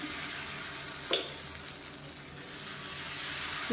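Kambu masala adai batter, made with pearl millet, hits a hot pan and sizzles in a steady, close hiss, with a sharp tap near the start and no voices.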